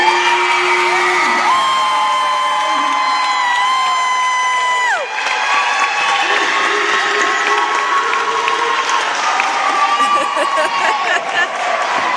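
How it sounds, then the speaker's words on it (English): A large crowd at a school celebration applauds and cheers steadily and loudly, with whoops and children shouting throughout, while a voice talks over the noise. "put your hands together for Destiny."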